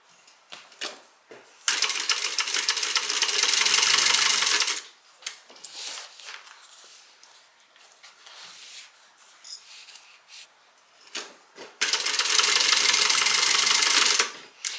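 A sewing machine basting handles onto a tote bag runs in two loud, steady bursts of rapid stitching, separated by quieter handling clicks and fabric rustles, close up with no talking.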